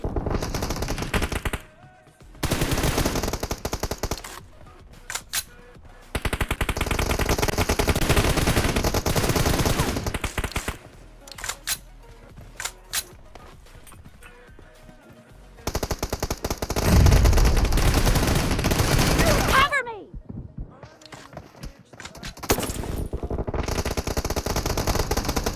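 Automatic and rapid gunfire from a team deathmatch round in the battle royale game PUBG, loud bursts of machine-gun fire with brief gaps, plus a few sharp single shots and game sounds.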